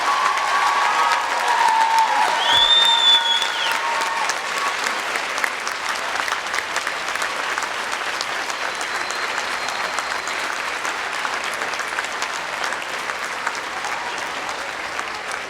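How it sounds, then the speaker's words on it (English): Graduates of the Emmanuel College class of 2013 applaud their families and friends at commencement, a long, sustained crowd applause from a large hall that stays broad and even, easing slightly toward the end. "rise and receive a round of applause from the graduates with thanks for your support"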